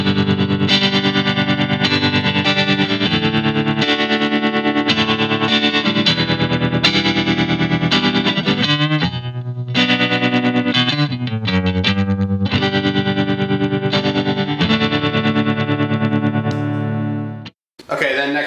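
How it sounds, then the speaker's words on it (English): Electric guitar played through a JHS Harmonic Tremolo pedal, sustained chords pulsing with a wavering tremolo and wet effects, loud and close, with a short pause near the end. "next up we got the JHS Harmonic Tremolo"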